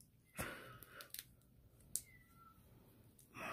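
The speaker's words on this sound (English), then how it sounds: "It's a cat that keeps meowing outside of my house every night." A cat meows outside a house at night, heard faintly at a distance as a short drawn-out call, with scattered clicks and small handling noises around it.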